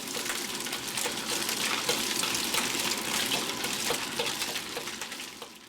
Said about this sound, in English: Once the oil has heated up, place a handful of softened scallops and allow them to cook for about 2 minutes